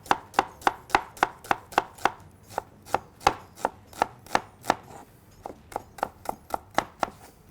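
Onion chopped with a knife on a board, a fast steady series of sharp close chops, about twenty strikes with a brief pause midway, no talk.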